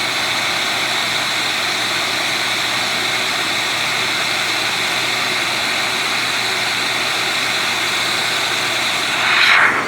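An XPOWER canister blower runs unrestricted with its nozzle open, a loud, steady jet-like whine that holds constant before a brief surge near the end.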